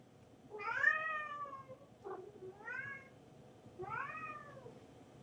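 A cat meows three times, drawn-out wavering calls spaced about a second and a half apart, fairly close and clear over a low background hum.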